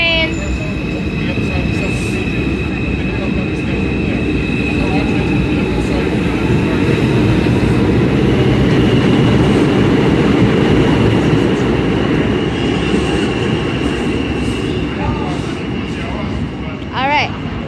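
A New York MTA 2 subway train pulling out of a station, a steady loud rumble and wheel clatter sustained throughout, with faint squeals and a brief voice near the end.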